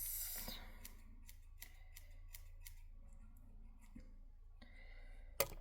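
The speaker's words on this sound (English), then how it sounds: "you're gonna spread it out and you're gonna cut into it like this" Scissors snipping into hair during a home haircut, a short run of quiet, crisp clicks spaced roughly evenly, close and alone, with a sharper snip near the end.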